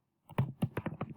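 Computer keyboard typing while entering header text into an Excel spreadsheet: a short run of close, uneven key clicks of moderate loudness, with no talking.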